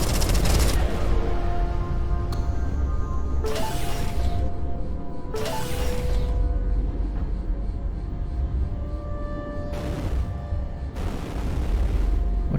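Gunfire and explosions in Everspace 2 as ball-shaped objects are shot apart: a continuous rumble of firing punctuated by several sharp bursting blasts spaced a few seconds apart.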